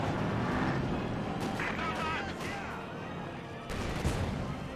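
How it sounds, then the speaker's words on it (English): A Panzer IV tank gun firing in a Company of Heroes 2 match, heard as a dense, continuous wash of booming battle noise and gunfire rather than one isolated shot, with a fresh heavy impact near the end. "Great hit there from the Panzer IV."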